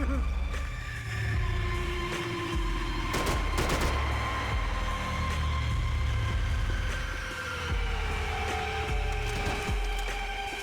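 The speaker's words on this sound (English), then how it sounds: "Who is shooting at me?" Gunfire in the video game Max Payne 3, with a few sharp shots around the three- to four-second mark standing out over steady game ambience, music and a voice talking throughout.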